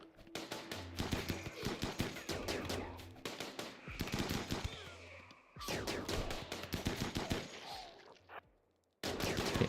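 Gunfire in the colony-building game RimWorld: rapid bursts of automatic shots and single cracks come in clusters, broken by short gaps and a brief silence near the end, loud and without talk.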